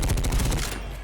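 Gunshots fire in quick succession at a box in the video game MADNESS: Project Nexus, a short loud burst of sharp repeated cracks.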